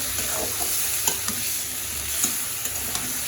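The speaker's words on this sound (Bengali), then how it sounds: "এখন হচ্ছে মশলার সাথে চিকেনটা সুন্দর করে কষিয়ে নিতে হবে" Chicken sautéing with spices in a pan makes a constant dense sizzle up close, with light repeated scrapes and taps of a stirring spoon scattered through it.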